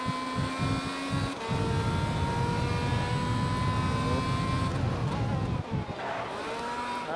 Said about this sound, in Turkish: Helikopter sesi geliyor.